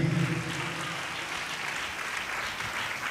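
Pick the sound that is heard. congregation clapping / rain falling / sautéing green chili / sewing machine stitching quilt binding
congregation clapping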